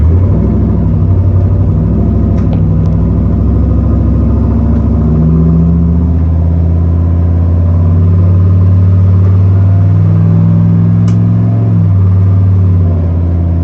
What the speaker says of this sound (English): There's second gear. Second gear is back in the house.